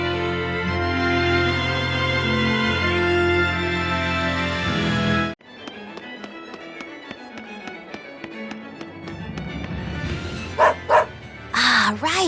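Dog barking in the Tales of Berseria video game, several sharp barks near the end following a stretch of dense game music that cuts off, with a quieter busy game scene and tapping between.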